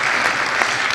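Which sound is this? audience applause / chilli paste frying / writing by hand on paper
audience applause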